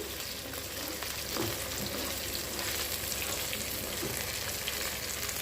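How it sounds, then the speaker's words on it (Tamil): Paneer coated in spiced cornflour batter deep-fries in oil, giving a steady, even crackling sizzle throughout with faint bubbling and no talk. "இந்த மாதிரி எண்ணெயில் பொறிச்சு கொடுங்க"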